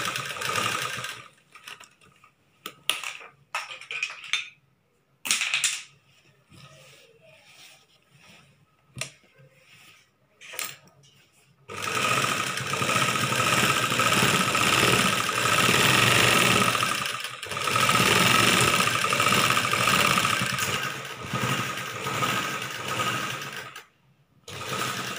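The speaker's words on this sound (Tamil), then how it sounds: "துணி தைக்கும்போது இந்த இடத்துல இழுக்காமல் தைக்கணும்" A sewing machine stitches a chudidar top, first in short stop-start bursts with gaps, then running continuously in a long, steady whirring stretch, close and fairly loud, briefly pausing before resuming.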